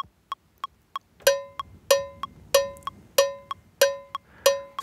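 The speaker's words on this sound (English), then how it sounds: "So this is the click from the SPD SX coming into this audio track." A steady metronome click from a Roland SPD-SX drum pad, synced by MIDI clock: sharp, evenly spaced cowbell-like ticks on each quarter note, with a louder accented click added partway through, alone and close.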